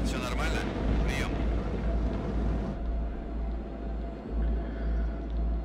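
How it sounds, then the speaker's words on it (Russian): A large storm approaching from the east rumbles in The Dark Pictures game, a deep, steady low drone throughout, with brighter crackling noise at the start before settling into the continuous rumble. "С востока идет большой шторм."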